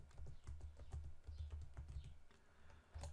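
Someone types on a computer keyboard entering a spreadsheet formula, producing quiet, close, irregular key clicks in quick bursts with brief pauses.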